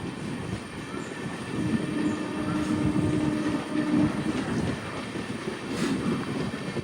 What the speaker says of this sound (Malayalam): ട്രെയിൻ ഇപ്പോൾ ഇതാ കണ്ണൂർ റെയിൽവേ സ്റ്റേഷനിലേക്ക് എത്തുകയാണ്.